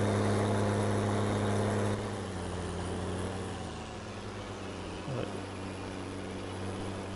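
A Fiat tractor engine upgraded to 185 horsepower runs in Farming Simulator 19, a steady low drone that is louder at first, then settles to a quieter hum with a brief bump near the end, with no talk.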